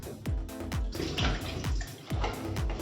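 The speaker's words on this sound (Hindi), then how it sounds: "देखिए अभी चाशनी अच्छे से उबलने लगी है।" Sugar syrup for barfi boils in a pot, a close, wet bubbling and gurgling that repeats in quick, regular pops.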